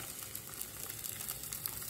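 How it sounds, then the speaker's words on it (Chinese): A fresh duck egg frying in a pan gives off a steady, faint sizzling hiss that runs unbroken through the short moment, with no voices over it. "咱们把这枚新鲜的鸭蛋 给它煎了"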